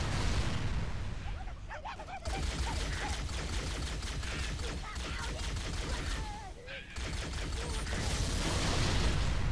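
Explosions and weapon fire in Halo: CE Anniversary's Pillar of Autumn mission form a loud, continuous rumble of blasts and bursts, and a voice talks over the combat.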